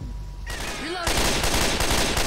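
Rapid gunfire from a weapon in the zombie shooter Left 4 Dead 2 starts about a second in and continues as a dense, steady stream of loud shots. Tonal game sounds come before it.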